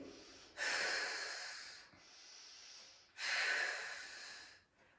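Heavy breathing during a core workout: two long, loud breaths close by, each a rough airy rush lasting over a second, with quieter breathing between them and no talking.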